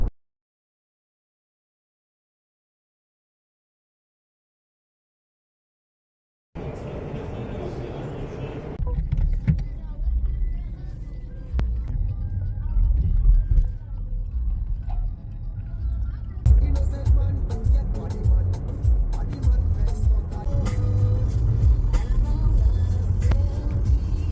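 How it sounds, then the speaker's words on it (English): A BMW 520 on the road, its engine and tyre rumble steady and close from inside the cabin after a stretch of silence, with a louder, brighter rush joining later; no talk is heard. "This is a BMW 520 and I'll be taking this car to London."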